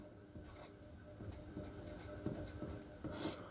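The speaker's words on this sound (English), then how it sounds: "Write the second matrix down." Pen scratching across paper while a matrix is written out, a close, quiet run of short strokes and taps with brief pauses between marks.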